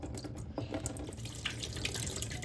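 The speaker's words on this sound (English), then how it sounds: "And now the water's really coming out." Water drains from a toilet tank into a bucket, a steady close splashing trickle with faint gurgles running continuously throughout.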